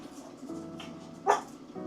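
A Russian toy dog gives one short, sharp bark at close range against a quiet room background.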